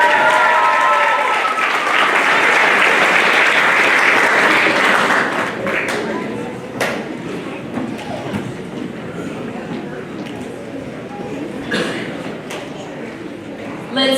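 Applause for seventh-grade students at a middle school academic awards ceremony, loud and sustained crowd clapping for about five seconds, then thinning into scattered claps and murmuring voices.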